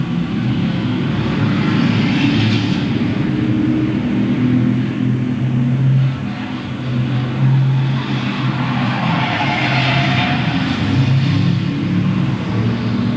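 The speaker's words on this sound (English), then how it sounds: "John Shellhammer continues to lead as they race back into turns 1 and 2 another time" Street stock race cars circle Louisville Motor Speedway in 1997, making a loud, continuous engine roar that swells and fades as the pack passes, heard from trackside without pause.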